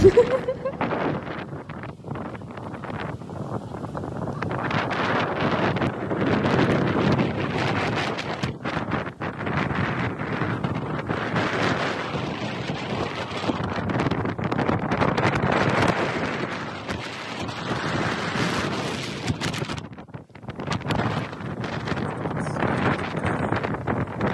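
Strong wind blows along the north coast of Taiwan, buffeting the microphone in loud continuous gusts with a brief lull near the end, no clear speech.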